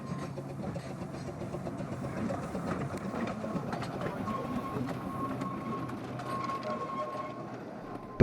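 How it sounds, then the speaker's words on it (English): A light railway locomotive on the Richmond Light Railway hauls its train back up a branch line with a steady mechanical running rumble and light rhythmic clicking, ending in one sharp knock. "the waiting loco is attached to the train and hauls it back up the branch line."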